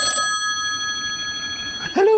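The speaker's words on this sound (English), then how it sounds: "Phone's ringing." An old-style telephone bell rings steadily in a quick metallic trill for about two seconds, then a voice breaks in at the end.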